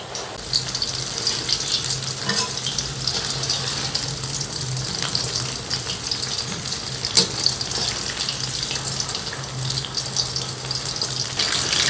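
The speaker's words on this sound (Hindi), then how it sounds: "इस पर चिकन विंग्स डाल दें और स्लो फ्लेम पर पकाना आपने" Chicken wings fry in oil over a slow flame, producing a constant, bright crackling sizzle up close, with small pops and a faint low hum underneath for the whole stretch.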